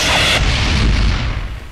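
A loud, close bomb blast in a Telugu film scene from Pellivaramandi: one heavy boom with a sharp onset that rolls off into a fading rumble over under two seconds.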